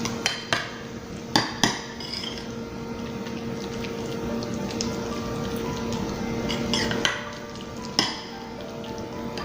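A spoon works through crab rangoon filling of crab, cream cheese and garlic powder in a bowl, a steady soft churning with a few sharp clinks of utensil against the dish.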